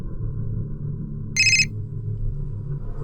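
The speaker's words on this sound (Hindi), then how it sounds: "नमिता का फोन आया था" A telephone rings once, a short bright electronic trill over a steady low room rumble, at a home or office in a crime drama scene.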